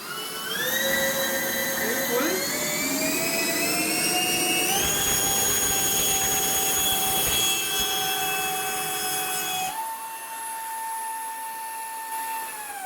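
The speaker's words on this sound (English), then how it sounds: "First we arm the engines, and then we give slowly throttle." Small 3D-printed RC VTOL jet engines whine steadily and loudly, their high-pitched tones rising in stepped increments as the throttle is pushed up, then dropping sharply to a lower, quieter whine near the end.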